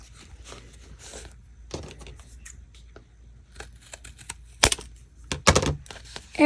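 A corner is chopped off an old gift card with a corner-rounding or cutting tool, giving a few sharp, close snaps and crunches among quieter handling rustles and taps.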